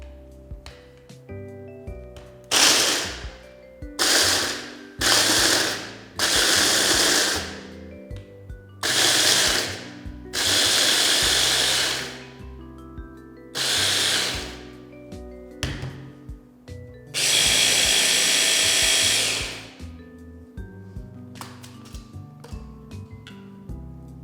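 A kitchen grinder blending broken biscuits for a chilled cheesecake base, loud whirring bursts that start and stop repeatedly, the longest near the end, with quiet gaps between pulses.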